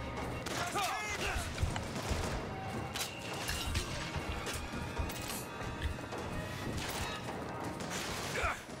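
A volley gun fires in the BioShock Infinite video game amid continuous rapid blasts, crashes and impacts of a chaotic fight, moderately loud throughout with talk mixed in.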